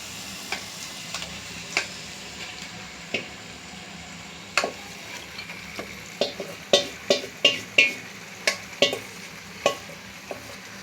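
Marinated chicken pieces dropped into hot oily masala in a pan, frying with a soft sizzle under repeated sharp clicks and scrapes of a stirring spoon against the pan, close and fairly quiet, no voices.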